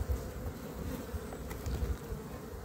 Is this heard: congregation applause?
no